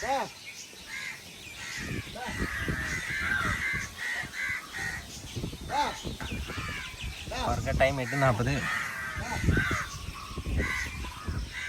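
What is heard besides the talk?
crows cawing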